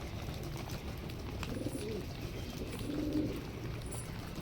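Pet pigeons give soft low coos under steady background noise, faint and intermittent, with no talking.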